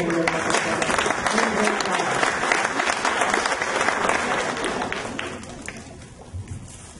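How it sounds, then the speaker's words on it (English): A crowd at a mayor's State of the City address in Lincoln City, Oregon applauds the executive director, brisk clapping that is fullest at first and gradually fades over about seven seconds. "So can we have a round of applause for her?"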